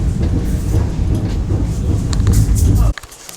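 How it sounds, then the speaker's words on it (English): Loud, steady rumbling drone of a train engine heard from inside a sleeper carriage next to the locomotive on an Arctic Circle rail journey, continuous for about three seconds before cutting out abruptly into quiet. "booking the carriage and the actual beds right next to the engine of this train"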